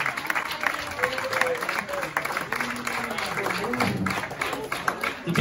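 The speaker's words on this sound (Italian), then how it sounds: "Un applauso al nostro Matteo Tampone." A crowd at a Pallacanestro Varese basketball gathering applauds player Matteo Tampone, steady dense clapping with cheering voices mixed in and people talking over it, building slightly at the end.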